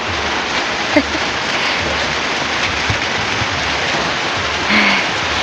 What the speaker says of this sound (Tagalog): It's raining, but it's fine.